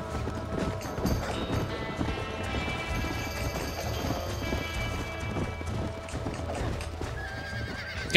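In the Red Dead Redemption game, a horse whinnies and its hooves clop in a quick running rhythm, layered over continuous game music and ambient sound at moderate level.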